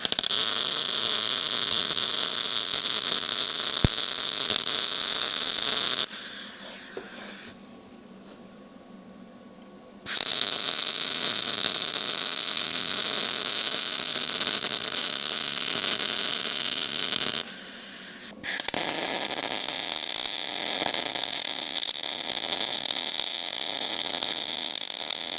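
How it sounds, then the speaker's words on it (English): Welding on a truck produces a loud, steady electric crackle and buzz that runs in long stretches, broken by two pauses where it drops to a quieter hum, close by and without talk. "Let's do a little welding on it and see how that goes."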